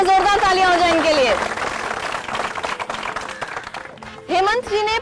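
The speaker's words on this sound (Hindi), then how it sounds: "जोरदार तालियां हो जाए इनके लिए।" Audience applause for a correct answer on a Hindi quiz show, a burst of clapping running beneath a host's strong voice, then fading before speech returns over it.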